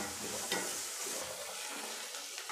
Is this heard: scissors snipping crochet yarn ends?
no